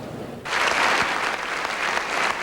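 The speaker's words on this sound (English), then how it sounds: "it has been for Stephen Ambrose, getting awards and applause today for an idea that took root back in 1964" Applause at the opening ceremony of the National WWII Museum in New Orleans in 2000 starts abruptly and fills the rest of the clip as a dense, steady wash of clapping.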